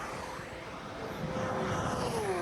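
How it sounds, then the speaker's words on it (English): A Porsche 992 GT3 on its stock exhaust passes along the Autobahn, a steady loud engine roar that builds and holds near the end, with a rising whine layered over it. "first car we got up is the Porsche 992 GT3, baby, with the stock exhaust"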